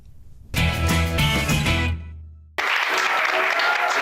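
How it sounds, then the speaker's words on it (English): A studio audience on a TV talk show breaks into loud, sustained applause that fades out. Fresh clapping and cheering then swells up again. "Big hand of applause for Big Richard."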